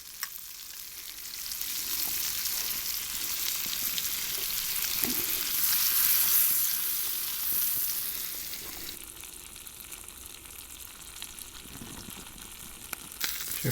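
Salmon and asparagus fry in butter in a pan on a DIY punk can camping stove. A steady, close sizzle holds throughout, easing slightly toward the end, with no talking.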